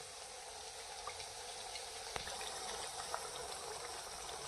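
Konkani kombadi vade fry in hot oil and puff up. The sizzle is a steady, faint, even hiss with a couple of tiny pops, and nothing else is heard.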